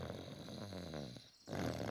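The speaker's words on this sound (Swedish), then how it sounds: "Det låter som snarkningar." A cartoon pig in a tent snoring, two drawn-out rumbling snore breaths with a brief pause between them, alone and close.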